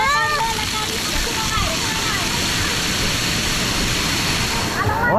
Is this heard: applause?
no